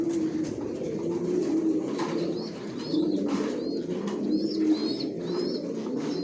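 Racer pigeons in a loft coo continuously, several overlapping low rolling calls close to the ear, with light wingy shuffles and no talking.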